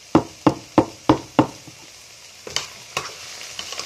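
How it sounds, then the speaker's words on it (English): Onion frying in a pan while making a wet beef fry, heard as five sharp, evenly spaced utensil knocks against the pan, then a few scattered taps over a faint sizzle. "our onion is cooking"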